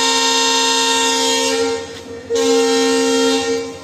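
A passenger train pulls out of Mayiladuthurai Junction with a long, loud, sustained horn blast that breaks briefly near the middle and then resumes, over a low rumble of the moving carriages.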